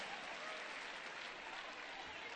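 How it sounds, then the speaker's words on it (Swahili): Dense, steady applause from a crowd fills the whole moment, loud and continuous without pause. "Give them a big round of applause one more time."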